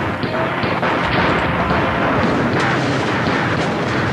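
Battle sound effects of gunfire and artillery at Pickett's Charge form a loud, dense, continuous rumble of overlapping blasts and volleys with no breaks.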